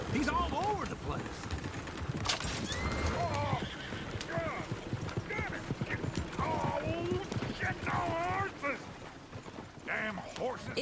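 Horses clop and gallop steadily amid a busy scene in the video game Red Dead Redemption II, with whinnies and people talking over the hoofbeats throughout.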